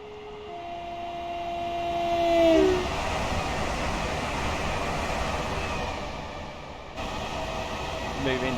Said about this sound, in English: Let's have a look at our train come past